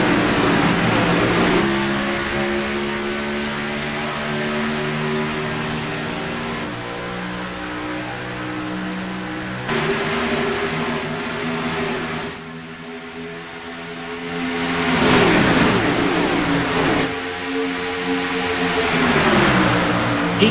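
Race car engines from the eNASCAR iRacing series at Atlanta roar loudly and rise in pitch as the field accelerates after a green flag restart, with several engines overlapping and revving continuously.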